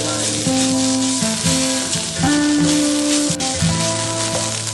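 Crushed garlic, ginger and green chillies fry in hot oil in a pan, a loud, dense crackling sizzle with several short tonal squeaks from the pan throughout.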